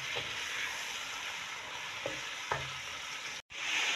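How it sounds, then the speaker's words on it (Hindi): Chicken cooks in a karahi with garlic, ginger and green chili paste, frying with a soft, steady sizzle at low level and a few faint clinks of stirring. "अब हम इसमें वो जो हमने लहसुन अदरक और हरी मिर्चों का पेस्ट बनाया था वो इसमें शामिल करेंगे और इसको इसके साथ अच्छी तरह हमने पकाना है"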